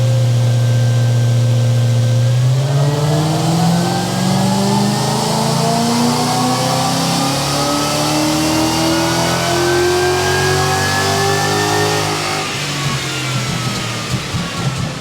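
A supercharged 5-litre Ford Coyote V8 car engine on a dyno revs hard and steadily climbs in pitch, loud and close, with a sustained roar and no talking.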